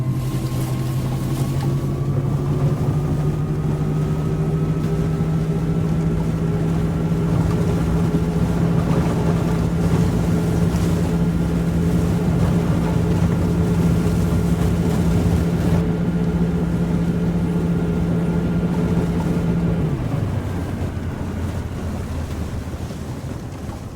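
An aircraft engine in a flight simulator game runs at full throttle for takeoff, a loud steady droning hum that rises slightly in pitch and holds for a long stretch before dropping lower near the end. It plays alone with no voices.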